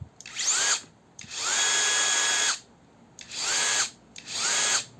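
A Procraft PKA 44 cordless mini saw motor runs in four separate bursts with short pauses between them, each one a loud, high whirring whine that spins up and then cuts off.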